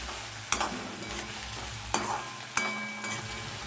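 Onion and chillies fry in a pan for Maggi noodles under a continuous sizzle, punctuated by a few sharp clacks of a spoon stirring against the pan, with no talking.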